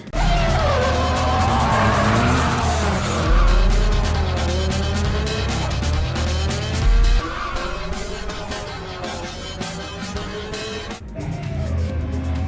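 Cars drift in a Fast and Furious Tokyo Drift film scene: engines roar and tires squeal continuously and loudly, with the skids rising and falling throughout.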